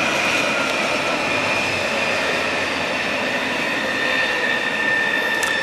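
An Arriva passenger train rolls past a marshalling yard at Aachen West with a steady, loud rumble of wheels on rails and a faint high squeal running throughout.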